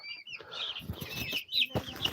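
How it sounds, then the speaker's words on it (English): Meat chickens on a farm cluck and chirp in a flock, a busy layered chatter of short calls at moderate distance with no talking. "Some of the meat birds."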